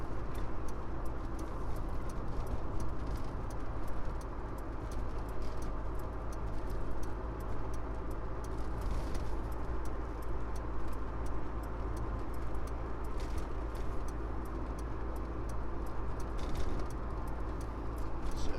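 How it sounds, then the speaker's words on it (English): A Lancia Delta Integrale Evo1 drives along, a steady close interior drone of engine and road noise with light patter and rattles over the top throughout, without talk. "So we're driving along, it's tight, the clutch is lovely, gearbox is smashing, brakes are very good."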